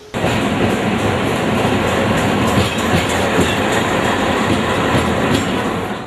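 A train on the Palakkad–Pollachi broad-gauge line rolls steadily along the rails with a continuous loud rumble and rhythmic clatter of wheels, close by throughout.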